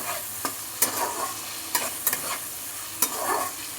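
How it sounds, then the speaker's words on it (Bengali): Fish pieces and fish oil fry with onion, garlic and ginger, sizzling softly. A utensil scrapes and clacks against the pan several times, in irregular strokes as the food is stirred. "এবার এগুলো পেঁয়াজ রসুনের আদার সাথে দিয়ে দিলাম দিয়ে আবার একটুখানি নেড়ে নিই"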